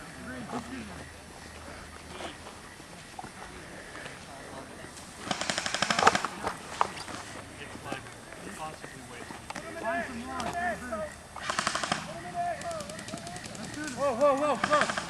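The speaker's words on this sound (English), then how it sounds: "Keep shooting at them." Video game shootout with bursts of automatic gunfire, loud rapid volleys in a few clusters between quieter stretches, heard under and between players talking over voice chat.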